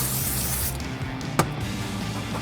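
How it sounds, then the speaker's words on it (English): Contact cleaner hisses from an aerosol can onto a paper towel in one short, steady burst, close up, which then cuts off, followed by a faint click. "what I like to do is spray some on the paper towel"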